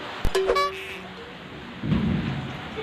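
Rain and thunder in a rural Sundanese comedy scene: a few brief tonal sounds at first, then a low rolling thunder rumble rises and lingers over a soft, steady rain hiss.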